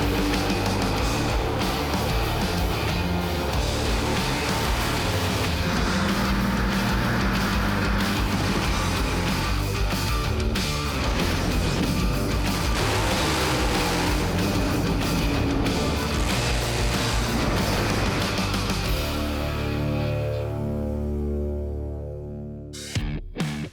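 Nitro funny car blasting down the quarter mile at Willowbank Raceway near Brisbane, a dense, thunderous engine roar that fills the scene for about twenty seconds, then fades into a lower sound and a few sharp knocks at the end.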